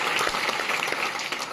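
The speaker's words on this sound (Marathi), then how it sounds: "याचा एकदा टाळ्या वाजवून आपण स्वागत करतो." A crowd at a protest meeting of marching workers claps in a short, dense burst of applause, moderately loud and fading slightly toward the end.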